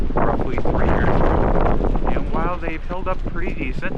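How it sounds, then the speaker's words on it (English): Strong outdoor wind buffets the microphone with steady low rumbling, heaviest at first and then easing under someone talking close by. "I'm sorry for the wind, it is a little windy today"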